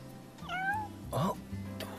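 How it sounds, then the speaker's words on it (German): A cat in the video game Final Fantasy XV gives a clear, close meow followed by a second rising meow, heard over a low steady game background with faint ambient tones. "Ha, sie ist hier hinter. Die Katze."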